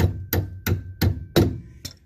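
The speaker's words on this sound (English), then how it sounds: "you give them a couple of taps with a hammer" Hammer tapping bearing races into a VW Puma drop spindle, six sharp metallic strikes at a steady rhythm, close and loud with no talk.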